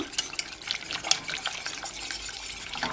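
A vegan lemon curd mixture thickened with cornstarch is stirred in a pan, giving soft, irregular wet scraping and sloshing strokes, fairly quiet and close.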